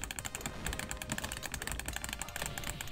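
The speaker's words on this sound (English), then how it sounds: "You're gonna hear a lot of clicking during this stream" Rapid, dense clicking from arcade cabinet buttons being mashed during a side-scrolling brawler, close and continuous with irregular bursts of taps and no talk.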